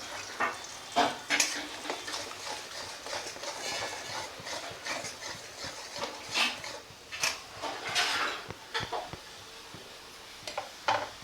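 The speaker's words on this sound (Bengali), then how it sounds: "আর তার সাথে সাথে আমি পেঁয়াজ বাটাটা দিয়ে দিলাম আগে" Onion paste hitting a hot pan for methi paneer and being stirred, a low steady sizzle with repeated scraping strokes and occasional clinks of a spoon, near and fairly quiet.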